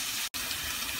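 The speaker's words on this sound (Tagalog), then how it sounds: "Lagyan natin ng konting tubig." A little water is poured into a frying pan of marinated ground pork with potatoes, giving a short, steady gushing hiss with a brief break partway through, close and fairly faint.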